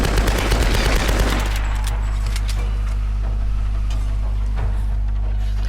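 Gunfire in the video game Tomb Raider: rapid, loud automatic bursts for about the first second and a half, then a lingering low engine-like drone with scattered faint clicks and thuds.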